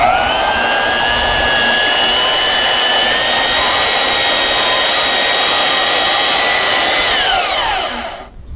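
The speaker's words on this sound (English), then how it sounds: "We're gonna have to use the bandsaw for that." A bandsaw cuts steel off brass scrap in a loud, steady high-pitched whine with a constant grinding hiss, running unbroken for about eight seconds before winding down at the end.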